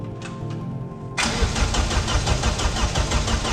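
A Vauxhall Astra GTE 16V engine cranks briefly and catches. It settles straight into a loud, steady, close idle with a rapid rhythmic pulse.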